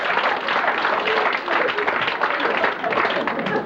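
A convention audience at a Blake's 7 event breaks into sustained applause, a dense, steady wash of many hands clapping throughout, fairly loud and close, with no voices standing out.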